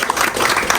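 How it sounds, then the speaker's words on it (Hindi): Applause from an audience at a National Reading Month celebration held in a district library. It comes as a short, steady burst of clapping with no voices over it. "Give yourself a big round of applause."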